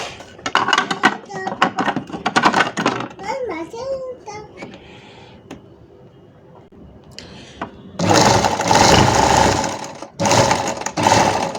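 A sewing machine stitches an Ankara fabric patch, with a loud, close mechanical whirring in bursts that follows a stretch of someone talking and quieter handling.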